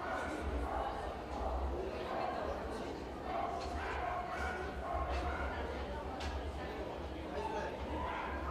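Small dogs yip and bark while running at an agility event, steady busy yapping over a dense crowd roar that stays loud throughout.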